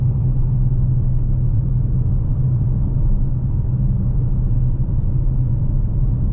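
A car drives along a road 13 kilometres from home, heard as a steady, loud, low engine and road rumble from inside the vehicle that barely changes throughout, with no talking.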